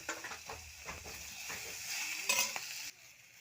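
Spiced potatoes sizzle in a hot pan while being stirred, a steady frying hiss broken by scraping stir strokes, close and moderately loud, then cutting off abruptly near the end.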